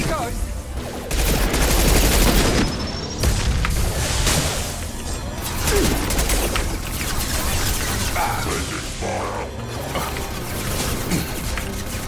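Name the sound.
turret gunfire in the video game Mass Effect 2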